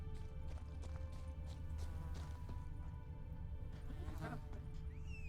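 Roach, Geralt's horse in The Witcher 3: Blood and Wine, clops along at a steady rhythm of hoofbeats under game ambience, with a faint whinny-like sound near the end.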